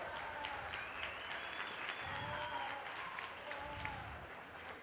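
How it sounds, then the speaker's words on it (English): Steady crowd applause fills the stands at a 4-H and FFA market goat show at a county fair, even and sustained at moderate distance, with faint whistles and voices mixed in. "Give everybody a round of applause."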